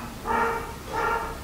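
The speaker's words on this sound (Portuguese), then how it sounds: "esse cachorro que não para de latir aqui, mano, que cachorro chato" A dog barks twice at a moderate distance, two separate woofs about half a second apart.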